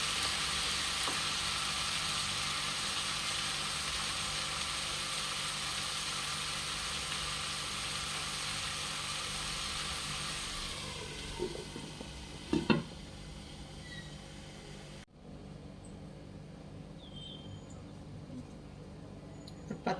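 Al faham chicken cooks covered in a pan on a low flame, a steady soft sizzle running for most of the stretch, then quieter near the end with a few clinks and knocks.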